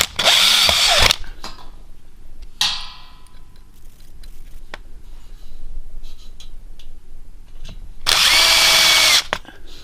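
A power drill drives screws through resilient channel into ceiling joists, two screws per joist at a splice: two loud, close whirring bursts at the start and end, a shorter one between, and quiet room noise in the gaps.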